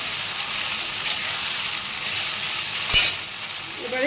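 Mutton kosha is stir-fried with ginger and cumin paste: a continuous hissing sizzle with gentle stirring and one distinct knock of the spatula against the pan near the end.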